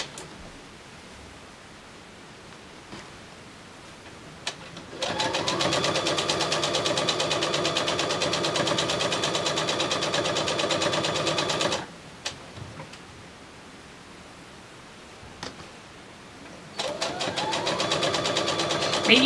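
A sewing machine stitches binding onto a quilt in steady, close runs of about seven seconds, stops briefly, then starts another run.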